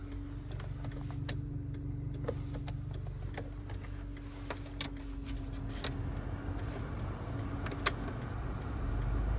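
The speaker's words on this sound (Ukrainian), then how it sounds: "склопідйомники працюють." Electric car windows hum as they move, with a steady motor whine and faint clicks inside a quiet Volkswagen Caddy 1.6.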